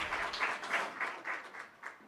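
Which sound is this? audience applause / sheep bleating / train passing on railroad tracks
audience applause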